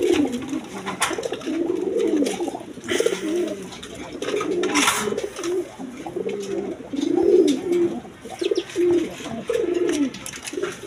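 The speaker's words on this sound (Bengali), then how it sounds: "এখানে এক পেয়ার গররা কবুতর আছে, রেড কালার" A pair of red Gorra pigeons coo close by in repeated rolling, throaty phrases with brief pauses between them, and faint rustling sounds in the background.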